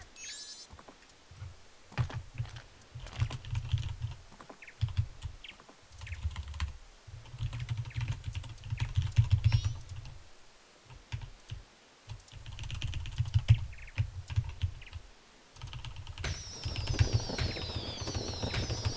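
Typing on a computer keyboard, with irregular bursts of clicky keystrokes separated by short pauses over a low background hum, plus a brief higher chirping sound near the end.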